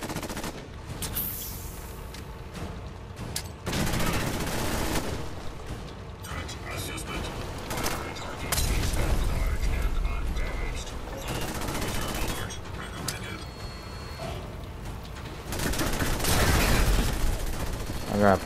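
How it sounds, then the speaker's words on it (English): Submachine gun fire in Fallout 4 amid mechanical clicks and clatter, several bursts of rapid shots separated by quieter stretches, with a voice speaking faintly at moments. "I just gotta use my submachine gun at this point"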